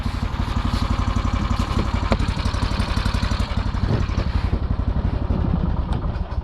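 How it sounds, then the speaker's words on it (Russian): A motorized tow vehicle idles while warming up, a close chugging engine with a fast, even clattering beat that holds steady and eases slightly near the end. "Думаю, буксировщик прогрелся."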